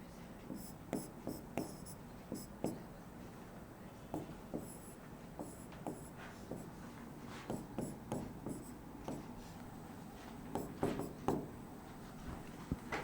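Chalk or marker writing atomic numbers on a board during a chemistry class: quiet, close scratchy strokes and taps in irregular bursts, with short pauses between words.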